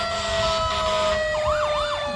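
Siren of the Montpelier Fire Department's engine 72 at the 2021 Bryan Jubilee Parade, a loud wailing tone that rises and falls in repeated sweeps, with steady engine noise beneath.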